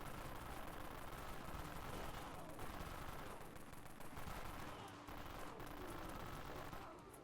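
Rapid, dense gunfire from the Santa's Little Helper weapon in the zombie shooter game Dead Frontier rattles continuously for several seconds in near-unbroken bursts, fairly faint overall.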